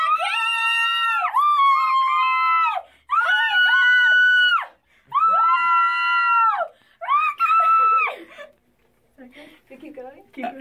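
A person screams like a fan at the front of a concert stage in a recording session: a run of long, loud, sustained shrieks separated by short pauses, close and dry, ending in softer breathy cries.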